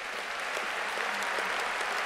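Applause for graduates at a 2018 postgraduate graduation ceremony for the faculties of medicine and natural sciences, a brief, fairly soft wash of steady clapping from a large crowd.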